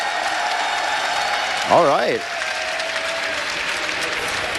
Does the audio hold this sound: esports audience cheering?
yes